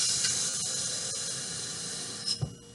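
Running water hisses steadily over a vinegar-soaked egg being rinsed, a continuous close spray that fades slightly before a couple of brief knocks near the end.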